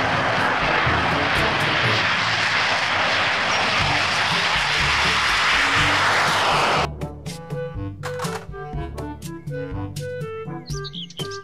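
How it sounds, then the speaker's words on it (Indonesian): A fighter jet's engine roars loud and steady for about seven seconds and then cuts off abruptly, followed by birds chirping and tweeting on their own. "Pesawat jet tempur."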